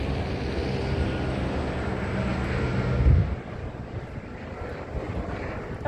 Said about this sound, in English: group stalking by helicopter, flying right over the apartment